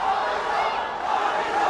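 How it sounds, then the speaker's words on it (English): Crowd at an MMA fight night cheering, a dense continuous roar of many voices holding steady throughout at moderate loudness. "we can hear crowd cheering for Avizo."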